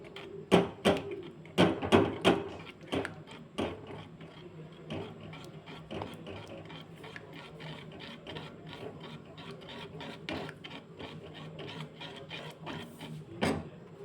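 Paneer bhurji is stirred into gravy in a pan, with a spoon scraping and knocking in a burst of quick strokes, then lighter, steadier stirring.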